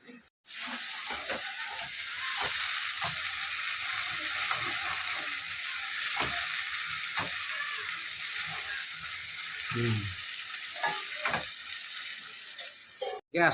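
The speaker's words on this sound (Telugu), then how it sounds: "మసాలా వేగిపోయింది కదా, ఇప్పుడు చికెన్ వేసేస్తాను" Masala for chicken biryani sizzles and fries steadily in a pan, a continuous hissing sizzle with occasional light stirring clicks and scrapes throughout.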